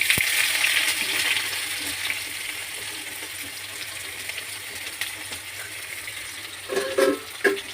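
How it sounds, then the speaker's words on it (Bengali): Chopped onion fries in hot oil with panch phoron, giving a continuous close sizzle and hiss. A few louder clatters of the utensil against the pan come near the end. "এবার লাল লাল করে পেঁয়াজটা ভেজে নেবো"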